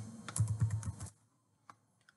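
Rapid keystrokes on a computer keyboard clatter in a quick burst for about a second, followed by a couple of isolated taps, close and fairly quiet.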